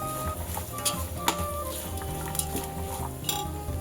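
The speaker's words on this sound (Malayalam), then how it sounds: "നല്ല നമുക്ക് ഇളക്കി കൊടുക്കാം" Spoon stirring soybean pulao with green chilli and biryani masala in a metal pot, giving steady close scraping and frequent light clinks of utensil on pot, with no voice over it.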